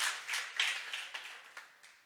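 Church congregation applauding in praise, a brief burst of scattered clapping that starts fairly strong and thins out, fading over about two seconds.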